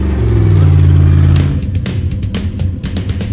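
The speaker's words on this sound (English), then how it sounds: "you're driving around a Batmobile" The engine of a Batmobile replica car revs loudly and close while driving, a deep sustained roar that drops off midway into rougher rumbling with sharp bursts.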